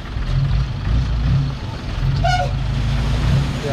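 A Nissan 90 hp engine powers a two-gear E-taen, a Thai farm truck from Korat. It gives a steady, close, loud low rumble with a pulsing throb, and a brief higher squeal cuts through midway.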